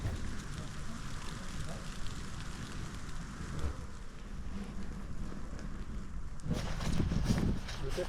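Steady rain falls while someone walks outdoors in it, a dense continuous hiss that swells louder near the end, with muffled movement and faint voices beneath.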